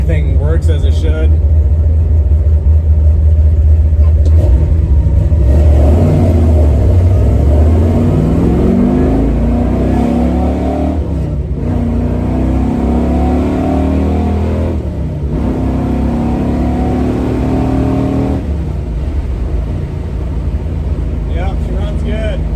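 A 1970 Chevy Nova driving along, its V8 engine rumbling and revving up and down beneath steady in-car talk, loud and close throughout.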